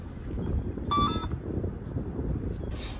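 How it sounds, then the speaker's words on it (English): An XC30 agricultural drone gives a short burst of rapid electronic beeps as it powers on outdoors, followed by a single fainter chirp later, all over steady wind noise. "Let's power on the drone."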